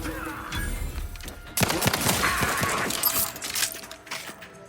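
Grenades going off in The Outer Worlds 2 video game: a clattering run of sharp blasts and crackling debris, loud and close over a continuous rumbling game soundscape.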